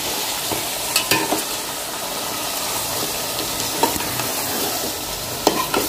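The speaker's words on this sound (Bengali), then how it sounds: "এবার খুব সুন্দর করে নাড়তে হবে, যাতে পুরো গোস্তের মধ্যে আপনি হলো মশলাগুলো সুন্দরভাবে লেগে যায়।" Bone-in beef pieces coated in spices are stirred in a pot, a steady frying sizzle with repeated sharp scrapes and knocks of the spoon against the metal, close and without talk.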